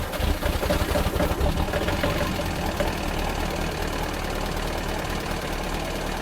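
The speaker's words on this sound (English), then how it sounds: "Take a listen to this exhaust." A loud car engine and exhaust roar steadily, with a deep rumbling idle and a rougher, revving burst near the start. No one speaks.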